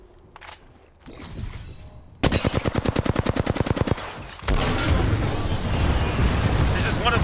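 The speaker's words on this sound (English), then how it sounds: "Knuckle cluster's firing." Rapid burst of grenade shots from the Knuckle Cluster in the video game Apex Legends, a loud regular train of sharp pops followed by a dense, sustained roar of explosions, after quieter game sounds.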